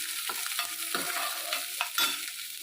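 Ingredients for aval upma sautéing in a pan with a steady sizzle, while a spoon scrapes and stirs in several distinct strokes, close and alone without talk.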